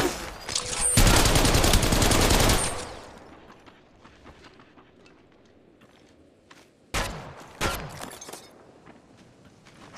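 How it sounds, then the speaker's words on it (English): Gunfire in the mobile battle-royale game Apex Legends Mobile: a loud sustained automatic burst at the start, then quieter scattered shots and two short sharp bursts later, no talk. "Shots fired at me. I am taking fire."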